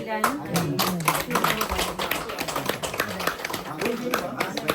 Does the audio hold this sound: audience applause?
yes